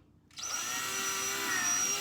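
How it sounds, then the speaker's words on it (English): After a brief quiet start, a power drill spins up and bores holes into a pumpkin, a sustained steady whine with slight pitch shifts, fairly close and unaccompanied by talk. "drill your holes"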